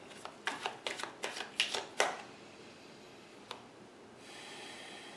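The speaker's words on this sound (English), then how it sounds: "One more shuffle." A deck of tarot cards being shuffled in a quick series of riffling bursts, close and soft, followed by a single tap and quiet rustling.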